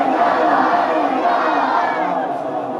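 A large crowd chants religious slogans in unison at a gathering at a Lahore seminary, a loud, dense wall of many voices sustained throughout without pause.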